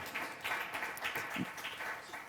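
A brief round of audience clapping at a talk on Rabindranath Tagore, Zenobia Camprubí and Juan Ramón Jiménez, scattered moderate claps from a small group, short and fairly even in loudness.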